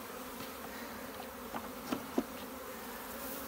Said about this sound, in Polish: Zaraz pszczółki będą tu wchodzić.